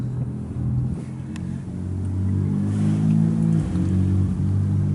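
A 1968 Chevrolet Camaro with a full 3-inch exhaust, deep rumbling engine building in revs and holding a loud low drone before easing slightly, close and without talking.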